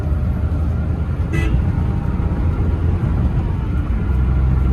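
A Maruti Suzuki Alto K10, just back from an engine overhaul for a misfire, out on a test drive. Steady, loud road and engine rumble runs throughout, broken once by a short horn toot, with no talking.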